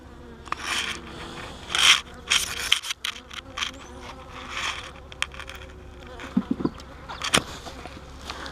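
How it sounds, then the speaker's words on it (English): Honeybee trapped inside a beekeeper's veil near a walk-away split, buzzing close and loud in irregular bursts, with sharp surges and scraping rustles as it moves against the mesh. "had a bee in my veil."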